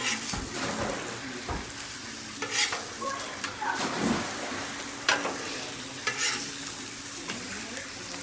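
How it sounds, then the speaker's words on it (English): Steak sizzling in butter on a Blackstone griddle, a steady close frying hiss with scattered pops and crackles and occasional scraping of a spatula, with no talking. "move the steak, put the butter here, and flip it over on that"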